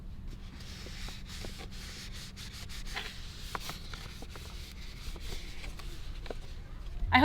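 Soft rubbing and wiping of houseplant leaves, a quiet, close, scratchy swishing with a few light taps.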